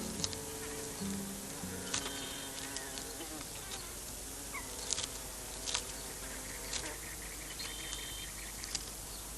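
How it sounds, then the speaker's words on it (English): Carpenter bees buzz around the old wooden structures of a ghost town. Several insects hum and whine close by and farther off, with passing drones overlapping in a steady, busy swarm. "Hundreds of carpenter bees are invading the remaining wooden structures of Ruby as brood chambers for their young."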